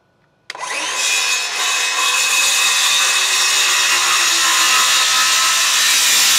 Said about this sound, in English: My circular saw wasn't quite set at its full depth.